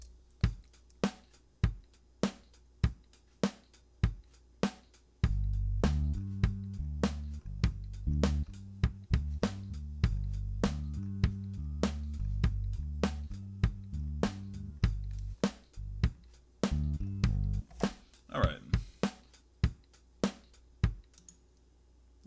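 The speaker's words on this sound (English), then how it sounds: "take a close listen to the beat. Don't just listen to the beat, but really take a listen to the beat, where the kick and the snare is." Programmed drum beat in Cakewalk software, sharp kick and snare hits in a steady pattern, joined midway by a low sustained bass part that drops out near the end, loud and alone without talk.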